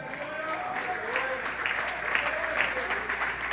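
Sustained applause from a church congregation, with a voice or music faintly mixed underneath, continuing evenly throughout.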